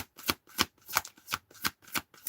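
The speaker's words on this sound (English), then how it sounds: "Close the deck. Shuffle." A deck of tarot cards being shuffled up close, with about seven quick papery riffle bursts in a steady rhythm and no talking.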